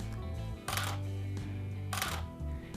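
Two soft, muffled Canon EOS 6D camera shutter clicks in silent mode, roughly a second apart, against a quiet low hum.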